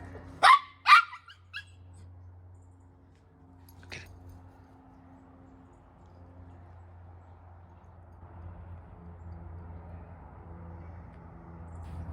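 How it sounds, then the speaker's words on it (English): A dog barks outdoors during a game of fetch, with two or three sharp barks right at the start, then a single faint yelp before long quiet low rumbling background. "The dog is happy. He played fetch."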